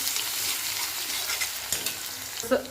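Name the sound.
cumin, mustard seeds and ginger-garlic paste frying in hot oil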